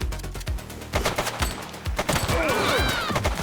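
Gunfire in the police game The Precinct as a female suspect opens fire: a rapid string of loud, sharp shots with heavy low thumps, packed into bursts and followed by ringing, whistling tails.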